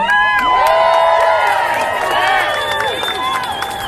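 A large outdoor rally crowd roars and cheers loudly and continuously, with overlapping whoops and high shouted voices swelling and falling throughout.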